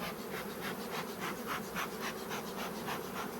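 Honeybees swarm thickly in an opened large hive during a queen-rearing split, a dense, close, unbroken buzz that rises and falls in gentle pulses.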